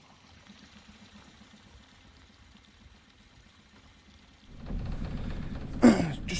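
Water rushes from a small waterfall on Loch Lomond in winter, a faint low trickle that swells abruptly into a louder, fuller roar as it is approached near the end.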